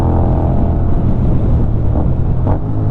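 An X-ADV 750 motorcycle engine drones steadily, loud and close, with a couple of quick rev blips near the end as it downshifts two gears under braking, with no talking.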